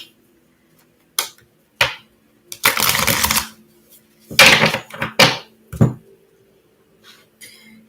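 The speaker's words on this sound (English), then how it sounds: "Let me shuffle these very well here." Tarot cards shuffled by hand in a quiet room: a series of crisp riffles and slaps, a few short snaps followed by longer bursts of fluttering card noise, close and clear with pauses between.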